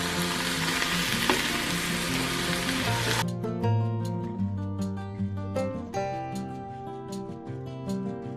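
Shrimp and beef fry loudly in a pan with stirring for about three seconds, then the sizzle cuts off abruptly and gives way to tonal, music-like sound.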